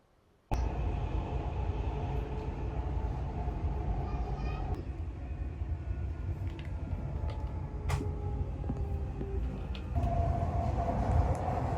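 Dubai Metro train running toward Airport Terminal 3, a loud, steady rumble and hum from inside the carriage that starts abruptly and continues throughout, with a faint tonal whine and a brief rise near the end.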